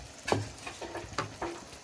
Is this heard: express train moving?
no